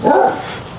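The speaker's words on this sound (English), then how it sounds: "that might be what the barking is about" A dog gives one short, loud bark up close at the start, and the sound trails off into a quieter yard in a Houston garden.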